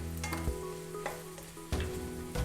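Carrots tipped into onions frying in butter and oil, a steady close sizzle broken by several sharp stirring clatters from the pan.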